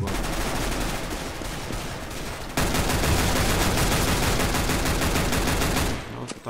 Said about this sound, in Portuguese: parece uma metralhadora isso